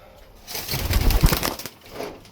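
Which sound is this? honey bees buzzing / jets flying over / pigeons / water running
pigeons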